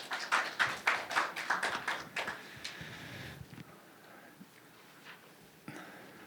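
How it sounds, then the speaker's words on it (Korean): An audience at a Korean regional forum presentation gives a short burst of quick, rhythmic clapping that fades after a couple of seconds into a quiet room with scattered soft taps. "큰 박수를 맞이해 주시면 감사하겠습니다."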